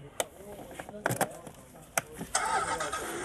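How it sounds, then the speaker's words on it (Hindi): A children's electric toy car switches on with a key, giving a few sharp clicks and knocks followed by a rising electronic hum and buzz, close and moderately loud, with a voice talking faintly around it. "ये गाड़ी ऑन हो गई है"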